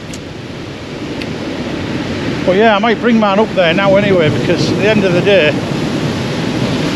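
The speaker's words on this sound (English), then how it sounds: "these waves are nearly at us" Sea waves and wind below a coastal cliff at Tunstall on England's East Coast, a constant rushing roar heard close by while someone talks over it.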